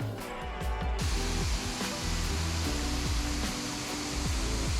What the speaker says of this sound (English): This was the first waterfall that I stopped at